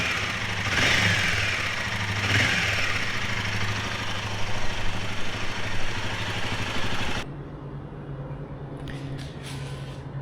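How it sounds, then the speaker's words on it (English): A Royal Enfield Himalayan 450 motorcycle engine idles close by, its steady rumble carrying a fast metallic clatter from a noisy timing chain; about seven seconds in the sound drops to a quieter, muffled idle. "So now the engine makes a noise which is clearly"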